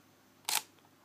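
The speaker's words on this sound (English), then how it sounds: "And then I press the shutter button" A Sony NEX 5N mirrorless camera fires a single crisp shutter click, short and close, standing alone against a quiet room.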